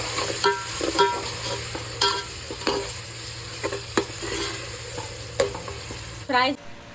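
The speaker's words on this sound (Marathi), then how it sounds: "तर हे बघा हे मस्त आपण 2 मिनिटं फ्राय करून घेणार आहे" Onion, tomato and spice paste fries in a pan with a steady close sizzle, broken by repeated scraping and tapping of a stirring spoon, then a brief louder burst near the end.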